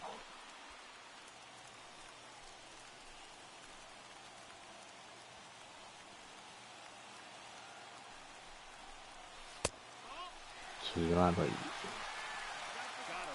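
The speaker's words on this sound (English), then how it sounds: "listen to this crowd now. They are really into this" A baseball stadium crowd in the video game MLB The Show 21, Cardinals versus Pirates, gives off a steady, hissing roar that swells louder near the end. Voices talk over it throughout.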